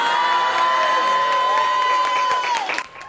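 A crowd cheers and whoops loudly with scattered clapping as scholarship winners enter a room at an East Boston high school, the excited noise sustained before dropping off abruptly at the end.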